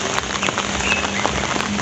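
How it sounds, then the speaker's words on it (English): Heavy rain pours down steadily in Entebbe, Uganda, a dense unbroken hiss of drops striking surfaces close by, loud and constant throughout. "It's raining hard right here. It's really raining hard"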